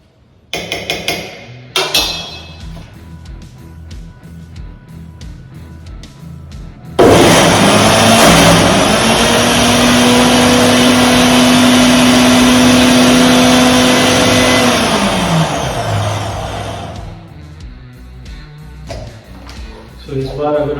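A Havells Stilus 500W mixer grinder grinding eggplant bharta starts after some clattering, then roars with a loud, steady motor whine for about ten seconds before winding down, with handling knocks around it.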